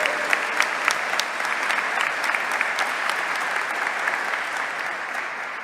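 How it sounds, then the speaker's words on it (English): Warm, sustained applause from an audience, dense and even, with a few sharper individual claps standing out throughout. "if we can give Wyatt, Evan, and Carabella another round of applause for their great poems and sharing today."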